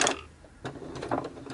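A sewing machine stitching through a paper belly band for a junk journal, a close mechanical whirring with rhythmic needle clatter that pauses briefly and resumes, fairly quiet, no talking.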